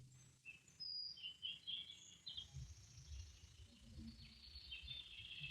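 Small birds chirp and tweet faintly indoors at a garden center near bird feeders and bulk bird seed, scattered high calls over a low background hum.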